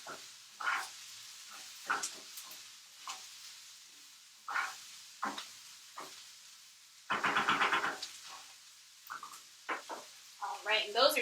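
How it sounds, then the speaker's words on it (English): Onions being stirred in a frying pan: scraping stir strokes and a burst of sizzling hiss, intermittent and fairly close, between bits of a person talking. "I'm going to just stir my onions up a little bit so they don't burn."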